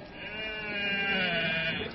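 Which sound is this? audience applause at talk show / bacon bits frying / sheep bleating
sheep bleating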